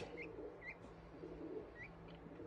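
A two-day-old peacock chick gives soft, high peeping chirps, three or four short calls spaced apart over a low, steady background hum.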